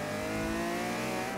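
A BMW M3 E46 with a Rocket Bunny body kit, driven in Forza Horizon 3, lets out a brief, loud engine overrun as a sustained tonal drone under throttle lift, alone without speech.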